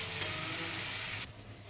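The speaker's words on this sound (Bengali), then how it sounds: "ভালো করে নাড়াচাড়া করে নিচ্ছি।" Chicken with salt, turmeric and Kashmiri chili powder hisses as it is stirred in a pan for chili chicken. A short burst of close sizzling cuts off abruptly near the end.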